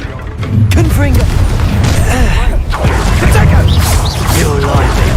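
Repeated Confringo fire spells in Hogwarts Legacy combat burst as booming blasts, several in a row over a busy battle mix with whooshes and impacts, with voices shouting over them.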